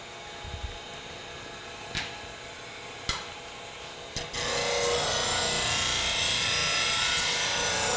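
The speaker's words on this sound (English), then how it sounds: "This is just a little 600 grit sandpaper. So I'm actually clearing the burr right now." A woodturning scraper's burr is cleared with 600 grit sandpaper, a few faint scrapes giving way to a steady, close abrasive rasp that carries on alone.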